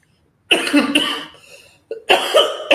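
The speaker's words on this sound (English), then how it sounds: "I don't mean to cough in the camera" Several loud, close coughs: a burst of two quick hacking coughs, a pause, then another pair of coughs.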